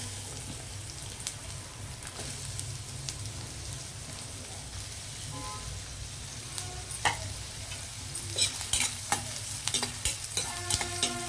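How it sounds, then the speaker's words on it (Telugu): Onions frying in a little hot oil for a jackfruit seed and potato curry, a soft steady sizzle that turns busier with clicking stirs and pops toward the end, no talking. "ఆయిల్ హీట్ అయ్యాక మనం ఆనియన్ వేసాను"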